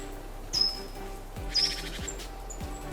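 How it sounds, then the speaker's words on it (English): Small birds call in the open, giving short, thin, high chirps a few times over a low, steady background hum. "Birds communicate through a diverse array of vocalizations, including songs, calls, and various other sounds"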